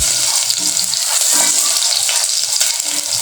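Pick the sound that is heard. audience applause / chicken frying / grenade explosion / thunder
chicken frying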